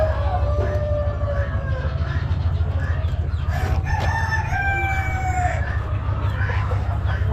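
Several roosters crowing among a flock that also includes hens, long rising-and-falling crows overlapping from different distances, loud and continuous over a constant low hum and clucking.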